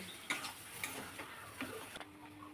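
Egg devil mixture frying in a pan with fried spice mix and a little sugar: a quiet, low sizzle broken by a few light clinks and scrapes of stirring, with no voices.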